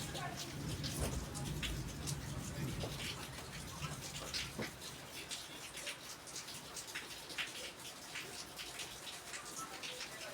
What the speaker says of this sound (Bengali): প্রচণ্ড বৃষ্টি হচ্ছে, দেখতেই পাচ্ছ।